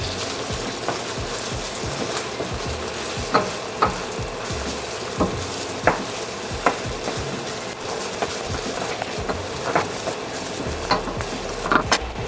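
Tomato paste cooking in a pan over medium heat for pork asado, a steady close sizzle and crackle with scattered pops and occasional scraping stirs throughout.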